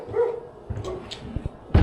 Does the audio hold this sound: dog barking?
yes